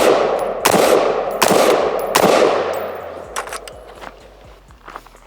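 Three loud, close AR-15 rifle shots from a bare-bones POF build at a shooting range crack in quick succession, each ringing out, followed by fainter clatter and small knocks.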